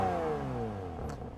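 Porsche 911 991.2 Carrera S engine with the sports exhaust switched off, a subdued mid-pitched drone whose tone gradually falls as revs drop, heard up close without talk.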